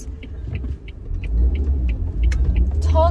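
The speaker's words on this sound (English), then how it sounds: "So currently I'm driving, as you can see" Steady low engine rumble and road noise from a car being driven, continuous and fairly loud throughout, with faint chirps and a brief squeal near the end.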